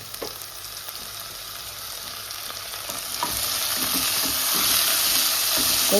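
Tomatoes sauté in a pan for a Tamil fish curry, a steady sizzle with scraping stirs that grows louder and fuller over the last few seconds, close up with no talk.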